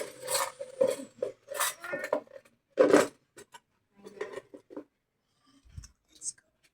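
Plates and cutlery clatter as they are set down in a series of sharp, close knocks and scrapes, with a loud burst near the middle and scattered clinks, while people chat in Filipino and English in between.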